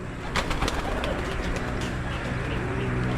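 Pigeons coo softly and steadily in a loft, layered with a few brief chirps over a constant background hum, the birds close by and moderately loud.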